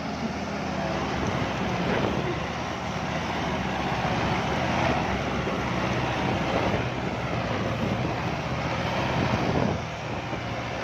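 A turbocharged Kubota tractor engine roars hard and steady, racing against stock tractors, a continuous loud, rough drone with slight surges that holds for about ten seconds before easing off.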